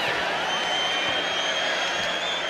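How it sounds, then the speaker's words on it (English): Crowd cheering in the WWE 2K26 wrestling video game, a steady, dense roar of the arena audience that holds loud and even across the whole stretch with no gaps. "A deafening cheer from the WWE Universe is reverberating around us."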